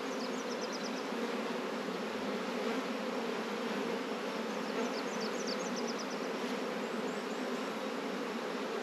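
Honey bees buzz in a steady, dense drone from an open beehive during an inspection, with a constant close hum and no talking.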